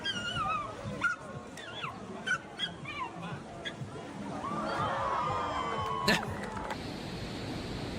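A dog whimpers and yips in a string of short, high, wavering whines, moderately close, over a background of crowd and engine noise.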